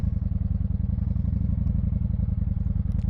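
A Honda VT1100 Shadow Ace motorcycle's big V-twin engine idles steadily close by, a loud, even, low throbbing pulse with light mechanical clatter throughout and no talking.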